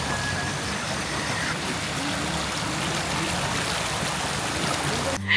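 Continuous rushing water of a flowing river at a campsite, a steady broadband wash with no pauses, fairly loud and close, with no one speaking.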